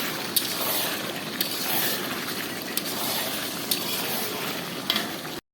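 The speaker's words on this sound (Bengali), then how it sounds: "হলুদটা দিয়ে ভালো করে এবার কষিয়ে নেব" Chicken pieces seasoned with salt and turmeric stir-fried in a pan, giving a steady loud sizzle with scraping stirs and a few sharp clinks of the spatula against the pan.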